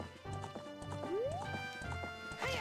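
Horse hooves clip-clop in Zelda: Ocarina of Time, a quick rhythmic stream of game hoofbeats laid over bright melodic background music, with a rising whinny-like sweep partway through.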